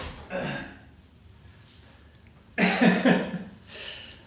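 Two separate coughing fits, each a short cluster of harsh, close bursts, split by a quiet pause.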